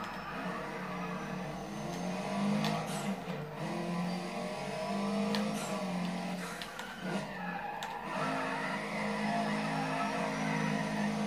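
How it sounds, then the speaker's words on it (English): A turbocharged car engine in Need for Speed: ProStreet drones and revs at steady volume, with sharp clicks and bursts scattered throughout and occasional pitch shifts as it accelerates. "This car sounds really nice with the turbo."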